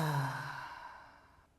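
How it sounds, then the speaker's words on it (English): A single long breath pushed out through the mouth during a breathing exercise, soft and close, fading away over about a second and a half. "going to breathe in through our nose and then exhale through our mouth"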